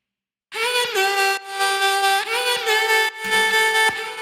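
A processed future bass vocal line with an LFO tool, delay and reverb sings bright sustained harmonic notes in short pulsing phrases, with a low bass entering near the end, loud and alone with no talking.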